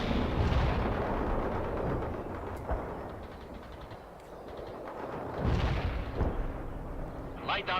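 Battlefield gunfire and artillery blasts from the World in Conflict strategy game, with a tank firing amid armored combat: a dense, continuous roar broken by several heavy booming impacts, loud and close throughout.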